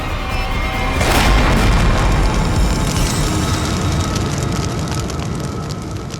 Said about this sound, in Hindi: डायनामाइट बम से अलग करेंगे तो बम फट जाएगा।